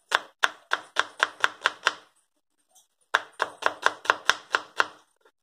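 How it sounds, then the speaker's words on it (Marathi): Knife chopping an onion lengthwise on a board, two bursts of about seven fast, even, close thuds each, with a short pause between them. "अशा प्रकारे आपली कांदा चिरून झालेला आहे"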